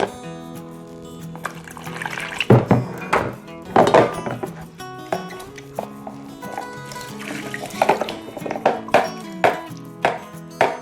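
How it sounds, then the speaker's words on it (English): Quinoa being rinsed in a bowl under a running kitchen tap, with irregular splashing, sloshing and hard knocks against the bowl, close and fairly loud with no talking. "we're gonna rinse the rest"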